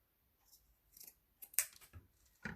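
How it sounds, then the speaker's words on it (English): Scissors snip through paper while a tag book is trimmed for a boho-style craft project, a few quiet irregular cuts and rustles building to sharper, louder snips near the end, with no talking. "I'm gonna trim this in half here"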